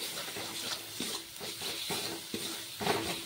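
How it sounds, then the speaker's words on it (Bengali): Ground cumin and coriander paste fries in hot oil, a constant close sizzle broken by regular scrapes and taps of a spatula stirring the pan roughly every half second. "এখন বেশ কিছুক্ষণ মশলাটাকে আমি ভেজে নেব তেলে"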